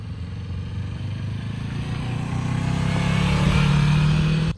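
A motorcycle engine drones steadily nearby as a learner rider works through a gear shift, the pitch climbing and swelling louder toward the end before dropping off abruptly.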